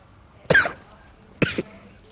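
Two short, sharp coughs about a second apart from a person playing Fortnite, fairly close and clear against a quiet background.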